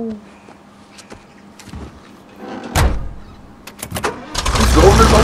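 A car in the shooter Wolfenstein: The New Order: a door thump and clatter, then an engine roaring up louder toward the end, with voices talking over parts of it.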